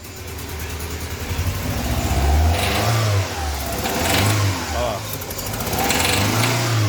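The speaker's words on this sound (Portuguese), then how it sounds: "Esse aqui bate e pina." A Renault Clio 1.0 16v engine with a knocking fault revs repeatedly in loud, close surges from idle, with someone talking over the engine.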